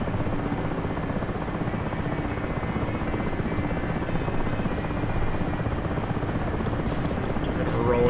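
Helicopter rotor and engine noise from a wheeled helicopter taxiing ahead of a rolling takeoff in the DCS flight simulator, a steady loud drone with faint repeating rotor slaps throughout.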